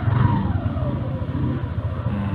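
A Yamaha NMAX V1 scooter engine runs close by with a steady, slightly wavering mid-pitched drone, without any talk.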